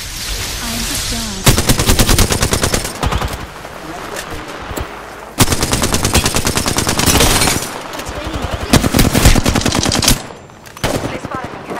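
Automatic weapons fire in Apex Legends: long, loud, close bursts of rapid shots broken by short pauses, with in-game voice lines between the volleys.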